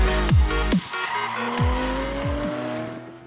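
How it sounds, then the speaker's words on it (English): Porsche sports cars with evocative engines rumble and rev at a Sound Night gathering, loud close engine notes rising and falling with sharp bursts and a sustained climbing tone, no talk over them. "Sound Night brings out a selection of Porsche sports cars with evocative engines for enthusiasts to enjoy."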